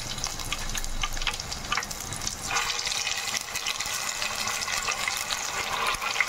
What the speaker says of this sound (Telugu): ఇప్పుడు మనం ఇందులో అల్లం వెల్లుల్లి పేస్ట్ వేసుకుందామండి.